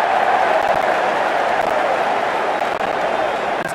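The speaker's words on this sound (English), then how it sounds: "The crowd on their feet." A cricket crowd at an England versus Australia Ashes match roars and cheers after a six, a dense, sustained wash of noise that stays loud throughout.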